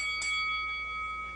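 A timer bell at a presidential forum gives a single clear ding that rings on as a steady tone for about a second, alone over faint room hum.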